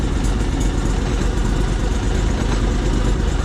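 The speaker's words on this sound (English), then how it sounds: "Shut the choke down a bit and let it come back to normal idle." An Argo 8x8 amphibious vehicle engine settles to idle after the choke is eased. It gives a steady, close, loud chugging rumble throughout, with no talk.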